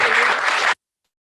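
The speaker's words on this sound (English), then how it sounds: "let's give them a round of applause." Board meeting audience clapping in a brief, dense burst that cuts off abruptly into silence.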